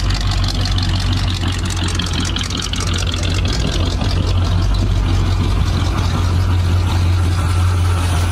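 A 1976 GMC Sprint engine idles on bad gas, a loud, close, steady low rumble with a pulsing exhaust beat that runs throughout, no voices over it.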